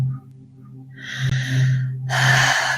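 Deep, audible breaths during a guided breath awareness exercise: a long slow exhale followed by a strong, breathy inhale close to the microphone, with a low hum underneath.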